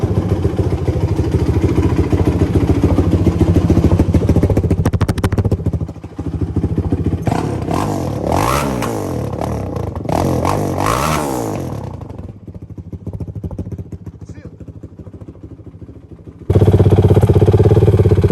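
A Honda TRX450R ATV engine runs loud and close throughout, revving up and down in repeated surges with a brief lull midway and a sharp return to full throttle at the end.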